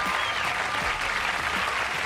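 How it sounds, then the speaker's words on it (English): Sustained applause and cheering from a studio audience at a stand-up comedy show, a thick wash of clapping at steady volume throughout, with no one speaking over it. "That's way too much applause, really."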